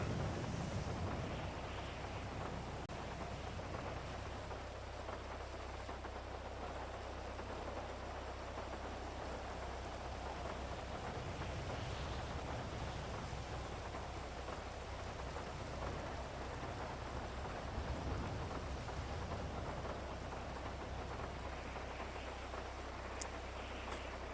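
Rain pouring in a GTA NoPixel roleplay session, a constant soft hiss of falling rain with low thunder rumbling underneath, steady and fairly faint throughout, no voices.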